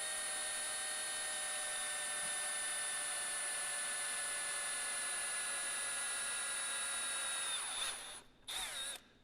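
A power drill whines steadily and loudly for several seconds, then winds down and briefly spins up again before stopping, while fitting quick-flip mirrors on a 2021 KTM 890 Adventure R motorcycle.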